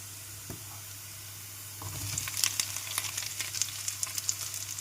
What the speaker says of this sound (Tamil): இப்போ இது கூட வந்து பாவக்காவை போட்டுக்கலாம்